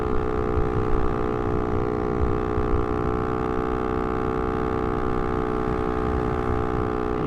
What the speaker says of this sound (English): if you're wondering about the sound of my exhaust, I broke the baffle off the end of it.